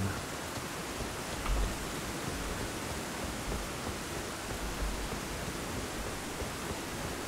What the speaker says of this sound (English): Time for rain.